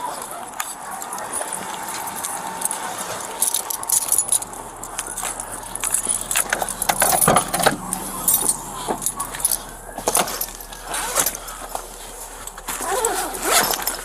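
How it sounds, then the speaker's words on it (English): Keys jangle and rattle close by in irregular metallic bursts during an emergency response scene, with clothing rustle and a faint vehicle presence in the background. "Keys."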